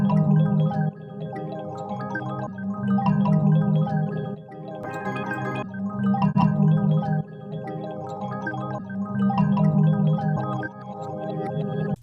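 A repeating grain delay pattern pitched down four semitones, a dense tonal loop that cycles in steady phrases of roughly two seconds, played alone at moderate level.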